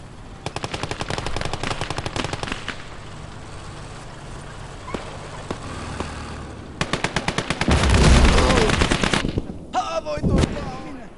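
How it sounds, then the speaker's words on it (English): Rapid bursts of machine gun fire in the Winter War battle of the Call to Arms: Gates of Hell Ostfront game, sharp rattling volleys with pauses, a heavier boom and more close bursts near the end. "there's a machine gun that way"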